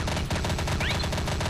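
Rapid automatic gunfire in the video game Counter-Strike Condition Zero, a dense burst of repeated shots running steadily throughout, loud and close with no voices.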